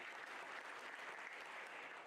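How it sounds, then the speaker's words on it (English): A banquet audience claps together, a faint, distant wash of hands blending into a continuous patter rather than distinct separate beats, alone with no voices over it. "can I get 5 claps?"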